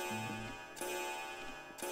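Loud, steady ticking of a clock in the horror video game Tsugunohi, with tonal music notes sounding around it; the ticks repeat evenly and sit close and prominent throughout.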